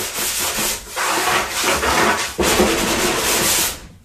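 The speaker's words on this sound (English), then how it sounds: "Sanding sponge to it," A sanding sponge rubs over a painting's background, steady scratchy strokes in three long close passes with brief pauses between, loud and alone.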